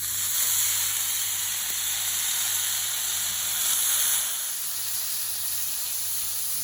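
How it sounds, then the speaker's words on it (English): Vegetables on a very hot griddle give a continuous bright hiss and sizzle that swells briefly midway and then settles, heard alone without speech. "So the griddle is really hot now, so we're just about to put the vegetables on there."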